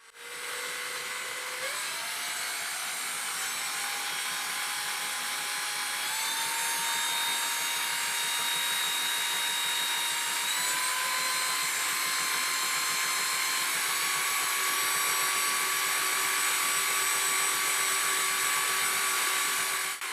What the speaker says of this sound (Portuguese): com uma ajudinha de uma furadeira elétrica